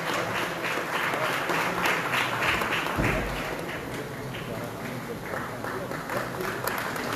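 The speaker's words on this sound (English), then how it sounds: "Let the claps be very loud" Audience at the inaugural of the Goa Open Innovation Challenge 2025 applauds, steady clapping across the hall with a voice speaking over it and a brief thump partway through.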